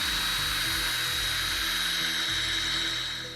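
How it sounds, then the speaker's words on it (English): Close, continuous whine of a power drill boring a pilot hole into a PC case, the motor pitch shifting slightly as it works, then fading at the end. "we are going to just drill a little pilot hole here"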